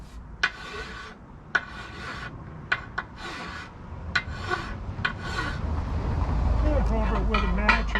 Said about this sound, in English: That's a real coarse square file.